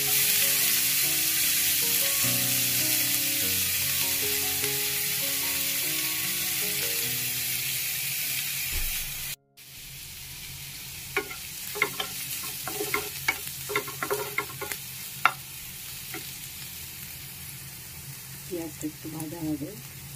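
Nigella seeds and onion sizzling in hot oil for a Bengali fish curry, a loud steady fry that cuts out briefly, followed by a softer sizzle with scattered crackles and stirring clatter.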